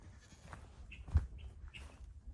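Goats brought onto a rural homestead property bleat softly a few times at moderate distance over a low outdoor background, with no talk.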